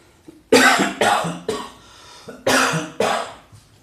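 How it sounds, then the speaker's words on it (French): A person coughs in a series of harsh, forceful bursts, five or so close together, with a short pause midway. "avec le poivre et tout ça, ça fait tousser"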